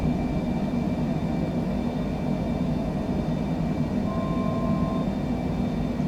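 Cockpit of a Cessna Citation Longitude C700 in Microsoft Flight Simulator on a night flight from London City to Paris-Le Bourget. It gives a steady, dense engine and airflow drone with a faint tonal whine, unbroken and without voices.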